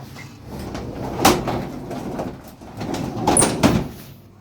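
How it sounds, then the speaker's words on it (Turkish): A small toilet door in a tiny upstairs restroom is unlocked and opened, giving two sharp latch-and-handle knocks a couple of seconds apart over a quiet room, with no talk. "Kilidi açıyoruz."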